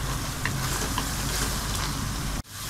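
Garlic ginger paste sizzles steadily in a hot pan, a close, even hiss that fills the whole stretch before cutting off abruptly near the end.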